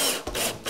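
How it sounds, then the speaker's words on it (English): A power driver sets screws into pre-drilled holes in a wooden workbench, two brief whirring bursts close up and loud, with no talking. "we've pre-drilled all of our holes and we're ready to set the screws"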